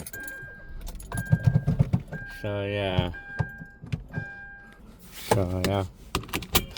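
Someone climbs back into a car after refueling, with keys jangling, clunks and rustles, a door thunk and a short electronic whine, under brief talk and a recurring chime.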